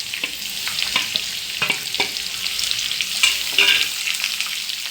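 Thinly sliced onions hit hot oil with browning coconut pieces in a pan for chicken dry roast, giving a steady bright sizzle with scattered pops and stirring scrapes, no voices.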